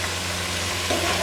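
Carrots tipped into a hot pan for chicken macaroni and stirred, giving a steady dense sizzle and frying hiss with a slight rise near the end.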